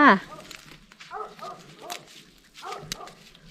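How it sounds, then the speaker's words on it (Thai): A neighbour's dog barks in a rural Thai garden where kum flowers are being picked, with a loud sharp burst at the start and shorter yelps afterwards, while someone talks nearby. "หมาก็เห่า หมาของคุณลุง"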